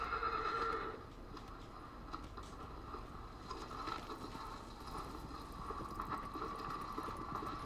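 A horse in the video game Shadow of the Colossus neighs clearly at the start, followed by steady hoofbeats and faint game ambience, quiet overall with no talking.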